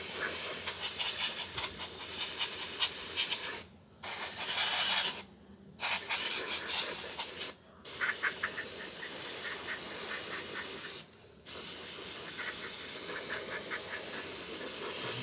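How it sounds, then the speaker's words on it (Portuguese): Airbrush or spray can misting a final paint coat onto a miniature figure: a loud, steady hiss in long bursts broken by four short pauses, close up with no talk. "Gastando um pouquinho dessa tinta final, uma pulverização mais longa."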